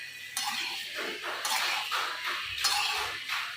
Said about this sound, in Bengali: এবার আরেকবার ভালো করে নাড়িয়ে নেব।